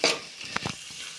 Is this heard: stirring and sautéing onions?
yes